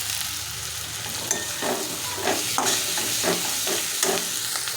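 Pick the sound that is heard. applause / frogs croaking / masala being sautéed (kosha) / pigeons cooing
masala being sautéed (kosha)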